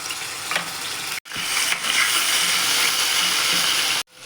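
Ginger garlic paste dropped into a hot tempering of mustard seeds and cumin, frying with a loud, dense, continuous sizzle and splutter, broken by two very short silent cuts.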